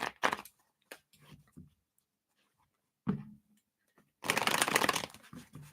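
Tarot cards shuffled by hand during a live reading, a few quick riffles and soft taps separated by quiet gaps, ending in a longer, louder flurry of riffling close by.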